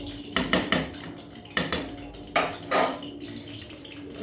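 Dishes and pots being washed in water at a kitchen sink, with repeated close clinks and clatters of cutlery and pans against a steady background wash, no voices.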